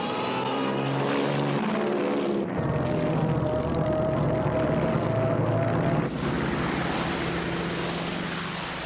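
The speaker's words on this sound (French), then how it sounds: "une première vague d'appareils teste les défenses de l'île de Midway" A first wave of WWII propeller aircraft attacking Midway Island, a loud sustained engine drone with heavy broadband roar, shifting in tone twice as the planes pass close by.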